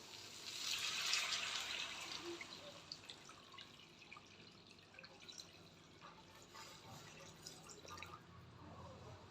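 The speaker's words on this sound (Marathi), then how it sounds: "तर ह्यामध्ये मी पाणी ओतते." Water poured from a pot-sized vessel into a cooking pot while making upma, a faint splashing pour at first that tapers into quiet trickles and drips.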